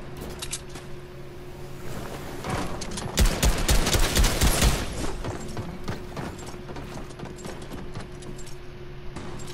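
Gunfire aimed at the player in Fortnite, rapid clattering shots building into a dense burst in the middle, then thinning to scattered pops over a steady background hum, no speech.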